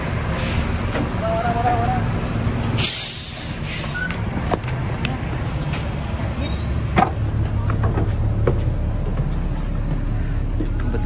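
A purple Ramayana Patas AC coach bus, a Hino RK8 with Marodadi Prima Gran Turismo body, pulls up at a roadside stop with loud rumbling engine, sharp hisses of air brakes and road noise throughout.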